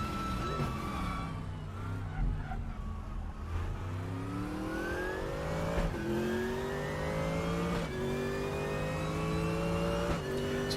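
A front-engined V8 DTM race car in the RaceRoom racing game revs hard, with repeated rising engine sweeps as it climbs through the gears, and brief dips at each shift. The engine stays loud and close throughout.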